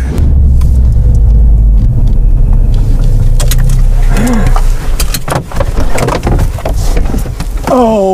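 A Mercedes-AMG CLA 45 S driving at high speed, a loud continuous engine and road rumble with low drone, occasional clunks and shifting tones as it accelerates.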